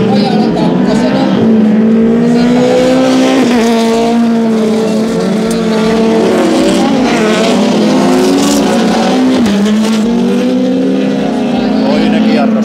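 Rallycross cars roar around the track at a Honkajoki RX masters event, engines droning loud and steady throughout with rising and falling pitch, while a commentator speaks in Finnish over the noise.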